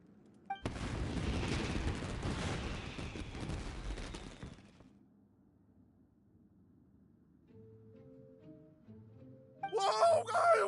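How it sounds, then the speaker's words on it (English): Fireworks erupt in Genshin Impact, a dense roar of crackling bursts for several seconds that cuts off abruptly, followed by soft tonal game music and then a brief loud sparkling burst at the end. "Yoimiya, this is turning into a bit of a fireworks display"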